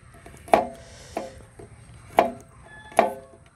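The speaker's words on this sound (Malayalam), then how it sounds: "ആ സമയം കൊണ്ട് നമുക്ക് നമ്മളെ വിതാപിനെ ചെറുതായിട്ടൊന്ന് അരിഞ്ഞെടുക്കാം." A knife chops food on a cutting board: four crisp, close knocks with uneven gaps between them, over a quiet background.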